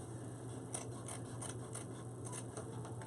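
Scissors snipping through deco mesh for a pumpkin craft, a quiet run of short crisp cuts with a steady rhythm over a low hum, close up and with no talking.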